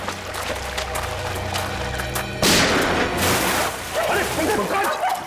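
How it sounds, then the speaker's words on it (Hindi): Gunfire rings out in a Hindi CID crime drama scene, a loud dense burst of shots cutting in midway through an already busy, roaring soundtrack with no clear pauses. "एसीपी चित्रोले गोली चला रहे।"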